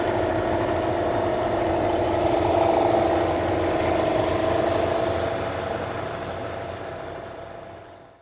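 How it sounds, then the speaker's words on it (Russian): Chinese outboard boat motor running steadily after starting, a loud continuous idling drone with a strong steady tone that eases off slightly toward the end, heard alone without talk. "Запускаем мотор"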